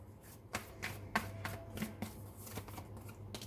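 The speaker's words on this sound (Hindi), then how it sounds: "पहले मैं सारे कार्ड्स निकाल लूँ" Tarot cards being drawn one after another from a deck, giving soft papery slides and light flicks in an irregular rhythm, close up and quiet, over a low steady hum.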